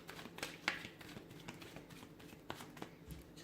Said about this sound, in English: Let me give the cards a shuffle here.